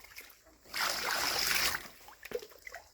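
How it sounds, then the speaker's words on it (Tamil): Water is poured onto a silicone-coated waterproof bike seat cover, a steady splashing pour lasting about a second, close and moderately loud, followed by scattered drips and small spatters. "இப்ப பாருங்க, இதுல தண்ணி ஊத்துறேன்."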